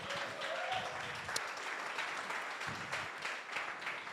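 Crowd applause sounding from a distance, a soft, even wash of clapping that holds steady throughout without a clear start or finish.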